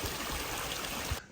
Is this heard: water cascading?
yes